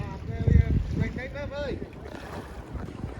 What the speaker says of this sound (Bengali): বাতাস সমুদ্রের এদিকে অনেক